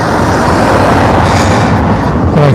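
A train rumbles past close to a railway station, producing a loud, steady roar of rolling noise that lasts throughout with no voices.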